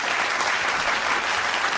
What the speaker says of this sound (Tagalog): Palakpak naman tayo dyan